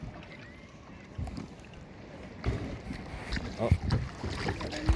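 Kayak paddling on the water near a resort bay, with soft splashes and wind noise rising in the second half; a person speaks briefly.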